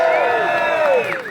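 A live audience at a WWE-themed podcast show cheers and whoops together, a dense close roar of many overlapping voices that holds steady and then eases off slightly.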